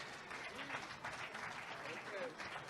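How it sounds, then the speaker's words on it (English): Quiet, distant applause for the mayor at a museum groundbreaking ceremony in Houston, scattered clapping continuing throughout while murmured voices carry faintly beneath it. "Applause for our mayor."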